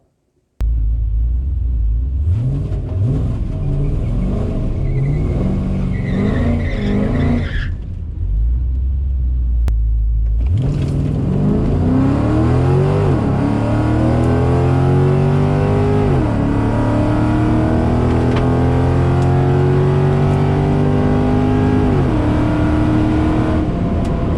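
Drag racing car on a qualifying pass at a grassroots event in Orlando: a loud engine idling and revving, a brief pause, then a hard full-throttle launch that winds up through rising gear pulls, close and dominant.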